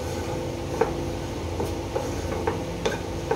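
Dry coconut (copra) stirred in a pan as it roasts over a low flame without oil, giving soft scraping strokes with a few light clicks of a spoon against the pan, all close and fairly quiet.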